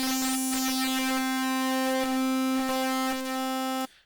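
Frequency-modulated sawtooth synth tone from Arturia Pigments, with one engine modulating another: a loud, sustained buzzy drone rich in harmonics, with a sweeping high overtone and slight rhythmic flutters, held steadily before stopping abruptly.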